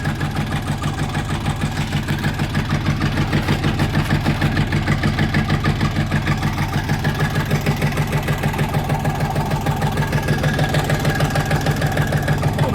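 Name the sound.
Kentavr 244 tractor engine starting and idling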